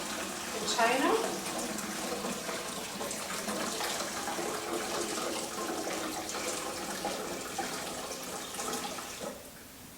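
Brewed coffee poured off into a container makes a steady, splashing stream of liquid that runs for several seconds and then tapers off, while a voice speaks over it.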